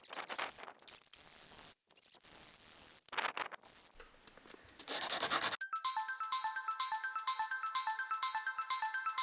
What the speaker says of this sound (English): we're gonna work on hand sanding the scales a little bit